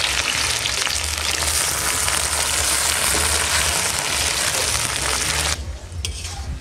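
Chopped onion with garlic and ginger paste fries in plenty of hot oil, making a loud, dense, continuous sizzle up close that cuts away sharply near the end, leaving quieter frying and faint clinks.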